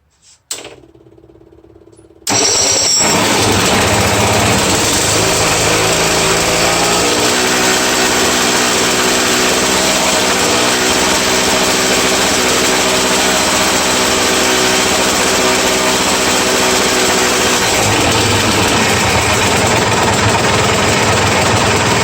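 After a brief quiet moment, a 352cc T4 engine fires up and keeps running loud and close, a steady high buzzing drone that holds for around twenty seconds without speech.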